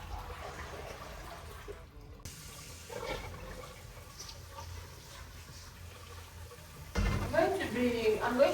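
Tap water runs over okra being washed in batches in a home kitchen: quiet handling noises first, then a louder rush of flowing water starts near the end.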